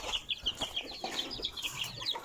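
Hens cluck softly while their chicks peep in rapid, high chirps, a quiet and continuous cluster of small calls close by.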